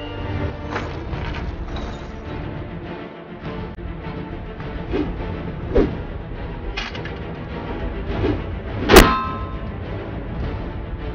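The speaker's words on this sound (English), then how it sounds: "We're topping the swish with the metal zing." Foley sound effects for a game: a series of whooshing swishes layered with sharp metallic clangs and zings, the loudest ringing metal hit landing near the end, heard alone.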